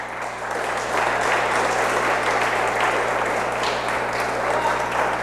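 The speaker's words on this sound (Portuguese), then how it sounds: "então dê um aplauso ao Senhor" A church congregation applauds together in praise, a steady, dense wash of clapping that holds at full strength for several seconds with no voices on top.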